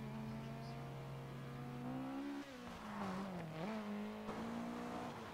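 An Opel Manta rally car engine in a video game hums and revs, its pitch rising and dipping as it shifts and accelerates, quiet and continuous.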